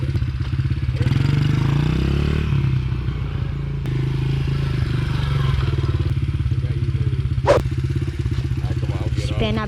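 A Honda CRF dirt bike engine idles and revs up close, a loud steady chugging rumble with rising and falling throttle, occasional clatter, and people talking over it.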